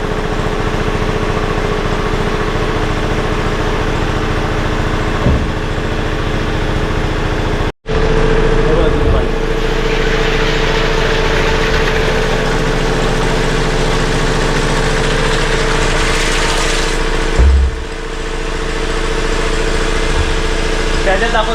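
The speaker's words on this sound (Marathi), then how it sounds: "इथे आम्ही पंप पण चालू केलाय वरच्या टाकीत चढायला" An electric water pump runs steadily at a household tank, lifting water into the upper tank, a continuous mechanical hum and drone throughout, with a brief cut partway and people speaking in the background.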